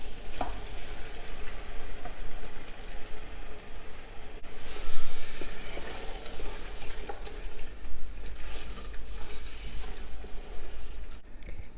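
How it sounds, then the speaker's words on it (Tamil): Tomatoes stirred into a sizzling onion, ginger and garlic paste in oil, a steady close frying sizzle with spoon scrapes and stirring surges throughout, no voices. "இப்போ தக்காளி போட்டு நல்லா கிளறி விட்டாச்சு"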